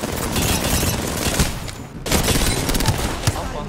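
Rapid bursts of gunfire in Apex Legends during a one-on-one fight, dense loud volleys that pause briefly before a second stretch of sustained shooting, with occasional voices.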